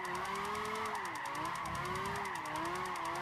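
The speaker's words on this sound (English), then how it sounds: "it drifts, and it drifts really well as well once you get the setup right on it" A Lamborghini drifting in Gran Turismo 5 gives a sustained, wavering tire squeal over a steady engine drone, loud and continuous throughout with no talking.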